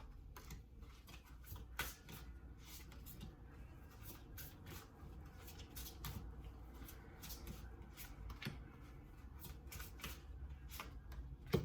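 Soft, continuous riffling of oracle cards being shuffled, a quiet papery flutter with faint bursts and no talking.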